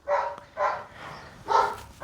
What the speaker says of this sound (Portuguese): o cachorro começou a latir do vizinho